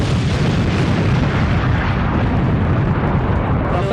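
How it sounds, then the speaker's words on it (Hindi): A bomb blast in a VFX action sequence roars as a loud, sustained rumbling explosion, dense and continuous for several seconds with no voices over it. "टुल्लू, हमारे 3 बोलते ही बम को पोल देना।"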